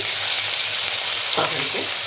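Curry with hilsa fish oil sizzles loudly in a pan as it fries, a steady close hiss, with a brief stir or scrape near the end.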